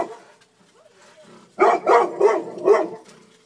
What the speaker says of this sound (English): my dog is very excited about the neighborhood dog.